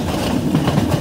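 The Jan Shatabdi Express, pulled by a WDP 4D locomotive, rushes past at full speed in Indian Train Simulator as a loud, dense rumbling roar with faint rhythmic clatter, lasting about a second.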